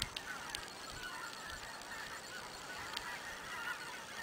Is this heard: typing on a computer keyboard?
no